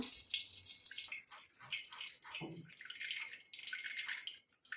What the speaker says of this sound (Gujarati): એને આવી રીતના ગરણીમાં ગાળી લેવાનું છે